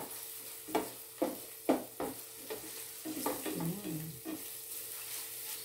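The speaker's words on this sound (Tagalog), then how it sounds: "lutuin nyo pong mabuti yung inyong onion hanggang lumabas uli yung kanyang sweetness" Onion sautés in a pan with a soft, steady sizzle, broken by several sharp scraping stirs of a utensil against the pan, fairly quiet and close with no talk.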